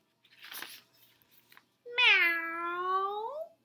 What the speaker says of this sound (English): following the cat's meow